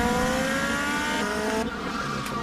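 A car drives in the GTA V video game, a loud continuous engine drone with tonal revving that shifts pitch and a brief tire squeal, close and alone.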